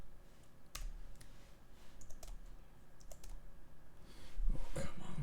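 Scattered keystrokes and clicks on a computer keyboard during a coding session, fairly faint and irregular, with a few sharper taps standing out against low room noise.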